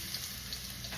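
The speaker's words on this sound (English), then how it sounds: "Fry this a little bit." Garlic frying in hot oil in a pan for salt and pepper shrimp, a faint, even sizzling hiss lasting the whole short moment with no talk.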